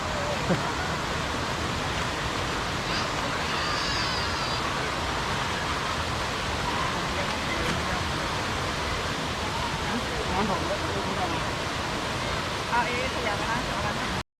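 The Nine-Tier Waterfall at Suan Phueng, Ratchaburi, roars as a steady, close, broadband rush of falling water that stays even and unbroken throughout.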